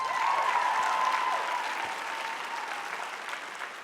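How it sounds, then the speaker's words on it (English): A large audience applauds at a hair industry awards show, a continuous wash of clapping that holds steady and fades slightly toward the end. "give yourself a round of applause"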